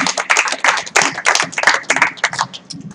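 An audience at a poker main event final table claps for a player being introduced, a lively burst of close, crisp clapping in uneven rhythm that thins out toward the end.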